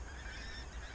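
Pink-footed geese honking on a frosty morning, a steady overlapping chorus of calls from a flock lifting off, heard at a moderate distance over a low background rumble.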